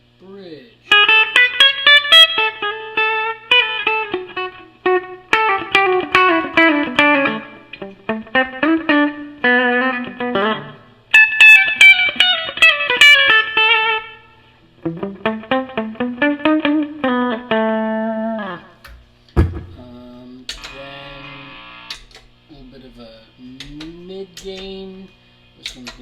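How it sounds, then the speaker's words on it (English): A 1972 Les Paul Custom '54 Black Beauty reissue is played through its twangy bridge pickup with mid-gain, reverb and delay, giving loud, bright strummed chords and single-note runs with ringing sustain and short pauses. "then the twangy pickup on the bridge."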